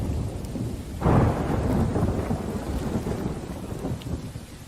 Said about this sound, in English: This is some thunder.